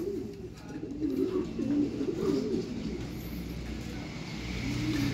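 Soft, repeated racing pigeon coos close by, a murmuring burbling call over a low background hum of traffic, at a pigeon race in San Narciso.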